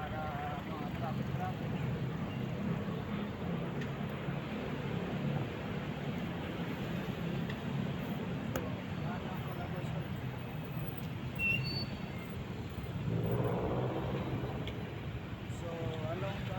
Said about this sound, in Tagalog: So ito pag traffic sa Manila namin na Luzon